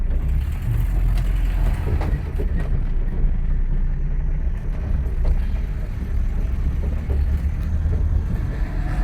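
A Voltarent rental car drives ahead at steady speed, its engine and road noise forming a continuous, fairly loud rumble from inside the cabin.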